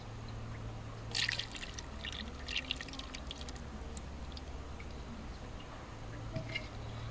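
A cup of cooking oil goes onto mutton in a karahi, giving a few soft bursts of pouring and sizzling early on over a quiet, faint kitchen background.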